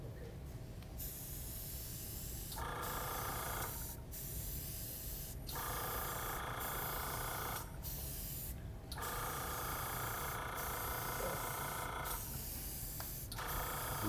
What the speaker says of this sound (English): What kind of airbrush do you use? Aztec.